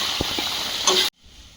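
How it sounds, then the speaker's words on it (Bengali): Greens with green chilies fry in a pan while being stirred, a close, steady sizzle with a couple of soft scraping knocks before it cuts off abruptly near the end, leaving faint hiss. "কাঁচা লঙ্কা দিয়ে আর একটু নেড়ে চেড়ে ঢাকা দিয়ে দেবো শাক ভাজাটা হয়ে যাবে"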